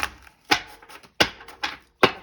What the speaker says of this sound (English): So actually with this one, shuffle, shuffle, shuffle.